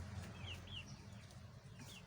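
A Thai breeding rooster of the Rhode Thai breed gives a few faint, short clucks with pauses between them, on a farm with a low background hum and no talking.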